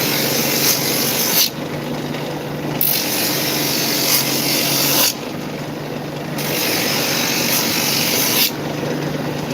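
Power sander grinding across a bamboo surface, a steady close abrasive whir with rasping texture that briefly eases and resumes in cycles, with no voices.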